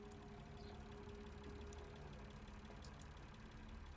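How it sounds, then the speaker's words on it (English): Diesel generator in a shed in Lost Horizon, a steady low idling engine hum that runs unbroken and faint throughout, alone without talk. "Must be the generator."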